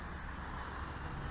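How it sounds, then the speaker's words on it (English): Wind blowing hard across a microphone at a park flying field for model planes, a loud, steady broadband rumble and buffeting with no other sounds. "the winds are funny up here. Like it's blowing pretty good. You can probably hear it in the mic."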